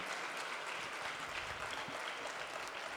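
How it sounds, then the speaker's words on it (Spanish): An audience at a lecture applauds to welcome a guest speaker, a soft, steady wash of clapping heard from some distance, continuous and unbroken. "Por favor, recibamos con un fuerte aplauso a nuestro invitado, doctor Óscar Almario García"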